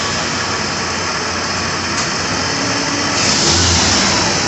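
A 1980 Triumph TR7 engine runs steadily with a broad, droning roar, then swells louder near the end as the throttle is opened, close up with no talking.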